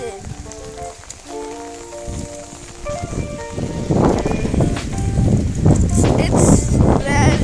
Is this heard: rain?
yes